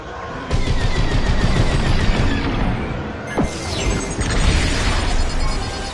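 Starfighter weapons firing in the space-combat game Star Wars: Squadrons, loud rapid bursts of blaster fire with booming impacts and a sweeping whoosh, continuous over a dense, roaring mix.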